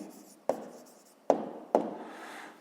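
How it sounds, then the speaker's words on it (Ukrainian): A pen scratches down an answer on paper in three short, close strokes with quiet pauses between them. "Записуємо відповідь. Пишемо відповідь."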